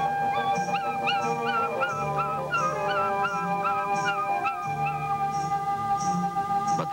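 An African wild dog on the open plains calls after its departing pack, giving a continuous series of wavering, hooting cries over steady background noise.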